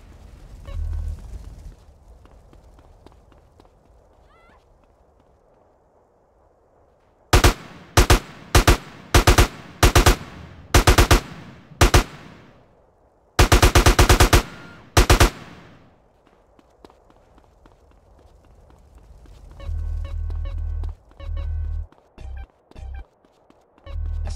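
Gunfire in GTA San Andreas Definitive Edition: bursts of sharp, loud automatic shots in two clusters, the second a dense rapid volley, followed by heavy low thuds and scattered impacts toward the end, no talk.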